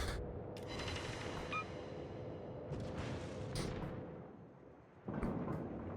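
Naval gunfire in the World of Warships game, with deep rumbling booms and explosions in a sustained battle din, a sharp louder blast near the end.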